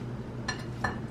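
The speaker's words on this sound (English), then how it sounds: "Now we're just going to stir this together." A utensil stirs a mixture in a bowl, giving two brief scraping clinks that sit close and alone over a low background hum.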